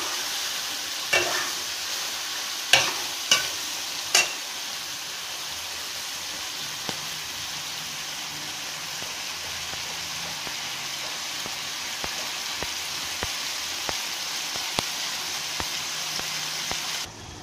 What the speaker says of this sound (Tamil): நல்லா வணக்கி விட்டு கிண்டி விட்டுட்டு கொஞ்சம் உப்பும் போட்டுருங்க.